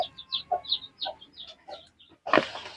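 Junglefowl chickens cluck close by, with a series of short, evenly spaced calls followed by a louder, harsher burst at the end.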